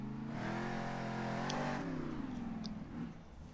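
A monster truck's engine revs and holds a rising, then wavering whine as it spins a donut in Monster Jam Steel Titans, loud and close with no talking.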